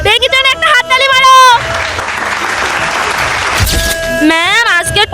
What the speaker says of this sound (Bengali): তো বাচ্চারা বেঙ্গির জন্য একটা হাততালি মারো।